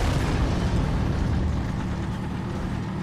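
Continuous loud, dense rumbling blasts from grenade explosions in Halo 2, a steady roar of booms and debris filling the whole stretch without any talk.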